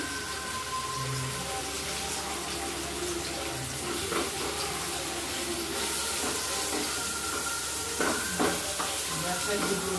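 Onion, tomato and ginger paste frying in a pan for a broccoli dish, a steady close sizzle with stirring scrapes and a few clinks of utensils.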